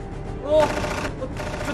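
Gunfire from armed attackers in a school building, heard as a muffled burst of shots under a wash of background noise and commotion.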